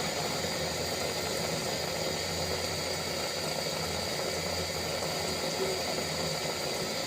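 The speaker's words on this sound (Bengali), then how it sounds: "দেখি তো আমার হাতে মাখানো ছোট মাছের তরকারিটা, ওয়াও, অনেক সুন্দর কিন্তু ফুটতে শুরু করেছে" A pot of hand-mixed mixed small fish curry boils steadily on the stove, giving a constant dense hiss and rumble with faint bubbling throughout, without talk.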